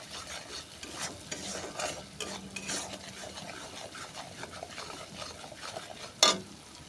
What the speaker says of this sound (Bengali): সমস্ত মশলা ভালো করে কষিয়ে নিচ্ছি